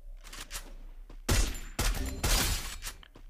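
Gunfire bursts in the Free Fire mobile game, with several loud, rapid volleys of shots close together and brief gaps between them.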